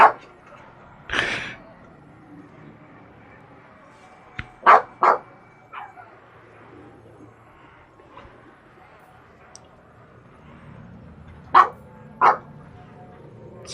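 Dogs bark in sharp, irregular yaps, a pair in quick succession early on and another pair near the end, with scattered softer woofs and faint background murmuring between them.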